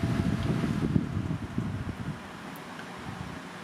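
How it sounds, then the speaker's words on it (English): Two Makita cordless 13-inch fans, one 40V and one 18V, running together give a steady, moderately loud wind rush with a broad low rumble that eases slightly toward the end, with no speech. "All you're probably hearing is wind noise, I suppose."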